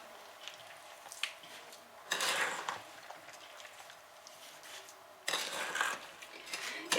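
Strawberries for raw jam being gently stirred in a full bowl, giving soft wet squishing and scraping in two brief louder bursts separated by quieter rustling, close and with no talking.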